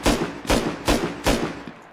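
In a raiding video game, four loud, evenly spaced booming blasts go off in quick succession, each with a sharp attack and short decay, like a rocket launcher firing repeatedly.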